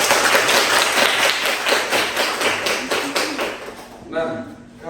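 An audience at a university teaching session claps hands, a dense, loud, sustained patter of many clapping hands that tapers off near the end as a voice starts speaking.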